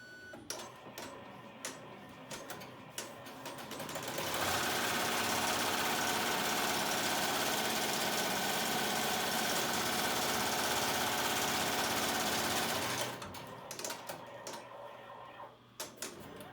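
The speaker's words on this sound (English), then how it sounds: "I'm going to place it in my machine. I've got my design loaded, and so the first thing that's going to sew is a placement stitch." Embroidery machine sewing a placement stitch on a fabric face mask: a steady, fast mechanical whirring and rattling runs for about nine seconds, framed by quieter clicks and handling before and after.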